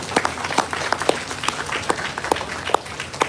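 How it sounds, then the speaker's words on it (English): An audience at a World Space Week inauguration gives a round of applause for ISRO and SHAR, sparse, uneven clapping with distinct individual claps standing out over a soft background, moderately quiet and without speech. "So give them back a round of applause to them"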